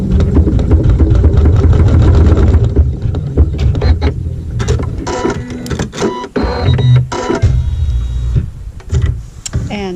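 A sewing machine stitching a tack down stitch through quilting fabric for a crazy quilt triangle block, with a loud, steady motor whir and rapid rhythmic needle chatter close by.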